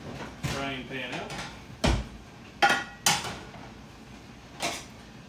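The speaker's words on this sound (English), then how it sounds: "Forgot to take our frying pan out." A frying pan is taken out in a home kitchen while making meatballs in red sauce. It gives a creak and then several sharp metallic clanks and clatters of pots and pans, with a voice heard early on.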